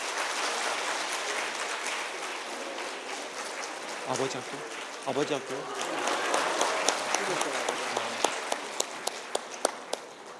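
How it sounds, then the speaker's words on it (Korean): Congregation applause at a Korean church service fills the clip, a dense steady clapping wash with a few sharper individual claps standing out near the end, while a voice speaks over it. "우리 뜨거운 박수로"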